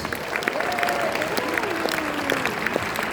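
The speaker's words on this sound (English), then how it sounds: "So give them a round of applause." Audience applause at an AIA Philippines event, a continuous bed of clapping at moderate level with a voice speaking over it.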